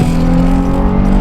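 Nissan 350Z with an open exhaust accelerating: a loud, continuous engine roar with a steady droning tone and no talk.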